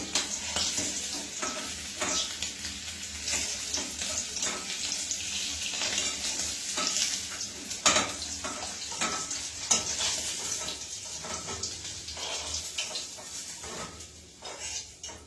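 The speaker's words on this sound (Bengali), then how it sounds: "আমি আলুগুলো কিন্তু অলমোস্ট লালচে করে ভাজা হয়ে গেছে।" Potatoes for a spiced aloo dum fry in a pan until nearly reddish, giving a steady broadband sizzle with scattered stirring clatters and spatula scrapes, close and fairly loud, with no talking.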